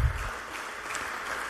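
Applause from an assembly audience at an administrative session in French Polynesia, steady, dense clapping that stays moderately loud through the short stretch.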